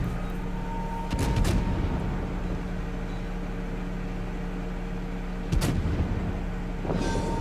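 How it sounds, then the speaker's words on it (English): Naval artillery salvos from warships in World of Warships: two heavy, booming bursts a few seconds apart over a steady engine-like hum and game ambience, with a third softer blast starting near the end. "salvo after salvo, here they come"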